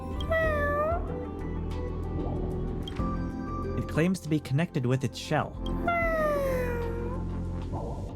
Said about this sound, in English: It's a dessert cat. It looks deeply distressed, crying profusely.